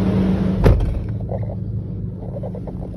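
A 2021 Lexus GX 460 engine cranks over with a short sharp burst, then settles into a steady low idle rumble that carries on close by, with no talk.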